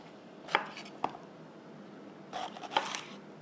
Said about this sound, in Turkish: Hepsini jülyen şeklinde keseceğim.